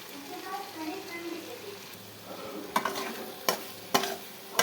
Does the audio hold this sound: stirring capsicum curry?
yes